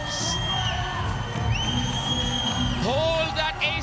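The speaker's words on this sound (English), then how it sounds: "The crowd's roaring as well." A packed arena crowd at a professional volleyball match between Kolkata Thunderbolts and Delhi Toofans roars and cheers continuously, loud and dense, with shouts and whoops rising above the din and a commentator talking over it.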